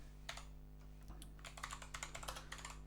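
Quick, irregular bursts of clicking keys on a computer keyboard while a text file is edited, close and fairly quiet over a low steady hum.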